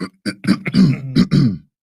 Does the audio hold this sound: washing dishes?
no